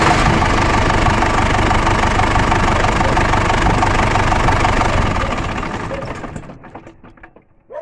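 A D245 diesel engine runs loud and steady with a rough, knocking idle, then shuts down and winds to a stop over its final seconds.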